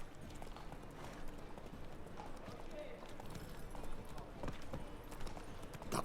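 Roach the horse gallops in The Witcher 3, hooves clip-clopping in a steady running rhythm over a busy layer of game ambience, with a voice talking.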